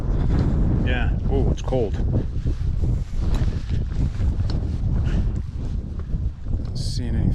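Strong wind buffets the microphone beside a choppy mountain lake on a high Yosemite pass trail, a steady loud rush throughout, with a person speaking briefly over it.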